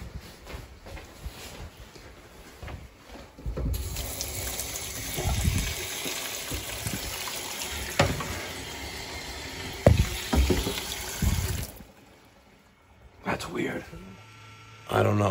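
Water gushes steadily from a faucet for several seconds, then cuts off abruptly as the faucet suddenly stops working, leaving a quiet hum and some faint background noise.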